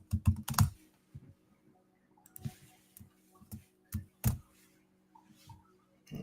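A computer keyboard is typed on in short irregular bursts of close, crisp key clicks with brief pauses between.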